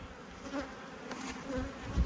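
Honey bees from a large, re-queened hive buzzing during an inspection: a faint, wavering hum of many insects close by, with no voices.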